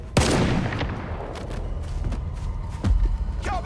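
Gunshots ring out in a STALKER 2: Heart of Chornobyl firefight, a sharp close burst at the start followed by scattered echoing shots and another heavy blast near the end.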